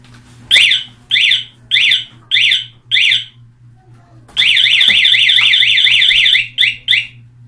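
A Cyclone talking alarm on a Suzuki Smash motorcycle blares nearby: five short electronic chirps, then a long rapid warbling burst followed by two more quick chirps.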